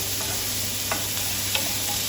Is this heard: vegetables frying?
yes